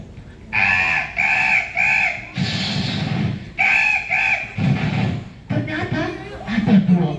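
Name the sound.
storyteller imitating two parrots squabbling in a tree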